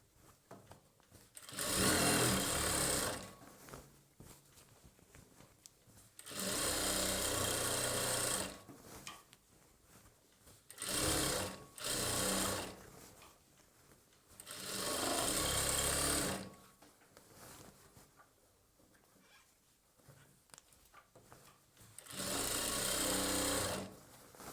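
A sewing machine stitches a churidar bottom in several bursts of rapid, steady whirring, each lasting a few seconds and separated by quiet pauses, close and fairly loud.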